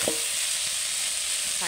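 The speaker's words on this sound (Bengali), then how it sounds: "এবার আমি শাকটা একটু ভেজে নেব।" Leafy greens frying in a pan, a steady bright sizzle throughout with a couple of brief scraping stirs at the start and end.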